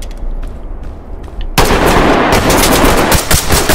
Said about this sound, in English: They're shooting between those barrels.